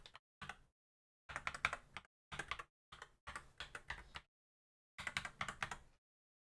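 A mechanical keyboard fitted with Star Wars themed keycaps is typed on in short irregular bursts of clicky, clacky keystrokes separated by brief silences, close and fairly quiet.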